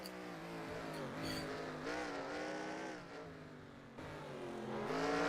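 Race cars in a video game street-course race at Chicago, engines droning and shifting pitch as they are thrown into corners, a steady layered roar with rising revs near the end.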